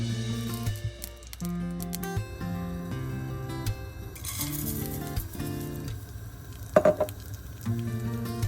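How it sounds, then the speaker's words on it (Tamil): Coconut flakes roasting in a spoonful of ghee in a pan for biscuit laddoos, with a constant bright sizzle, occasional stirring scrapes and a brief metallic clink near the end, no talking. "இனிமேல் தேங்காய்ப்பு வறுத்தெடுக்க போகிறேன். அதுக்கு ஒரு மேசக்கரண்டி நெய் சேர்க்கிறேன்."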